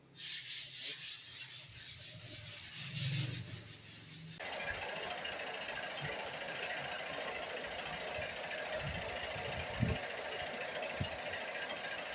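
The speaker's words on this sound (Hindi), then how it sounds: "सारा रगड़ना" Sandpaper rubs across the surface of a giant robot sculpture under construction, starting with quick rhythmic back-and-forth strokes, then settling into a steady, close abrasive hiss with a few faint knocks.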